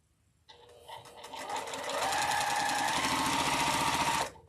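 A sewing machine starts up after a brief quiet moment, its rapid mechanical stitching chatter building to a steady, close, loud run before stopping abruptly near the end.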